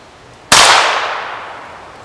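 A single loud, sharp crack from a Stinger rimfire round fired through a rifle barrel made from rebar, ringing out and fading slowly over more than a second.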